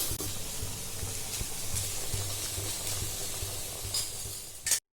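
Beans and onion sizzle and hiss in hot oil in a pan for a Tamil-style spicy masala pasta, with a steady crackle broken by a few clinks of a stirring spoon against the pan.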